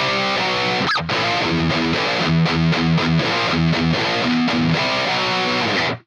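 Distorted electric guitar chugging out chunky power chords in a driving rhythmic riff, loud and close, then stopping abruptly.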